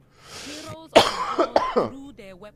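A person who is slightly ill coughs and clears their throat several times in a short cluster of harsh, close bursts, with some voiced sounds mixed in.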